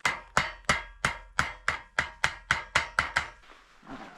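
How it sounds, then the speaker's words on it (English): Eleven sharp, evenly spaced hammer blows ring out close by as a metal edge is hammered down at a remote Alaska cabin, followed by a short pause and some faint handling noise. "I just hammer that edge down a little bit."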